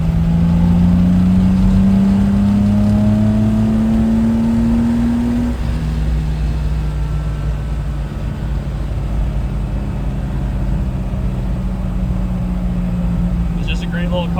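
A TVR 2500M sports car's engine drones steadily from inside the cabin while driving, its pitch rising smoothly as it pulls, then holding a constant hum, with a person talking over it throughout.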